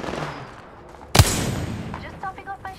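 A single sharp, loud gunshot blast cracks out in the Apex Legends video game, followed by quieter chirping tones from the game.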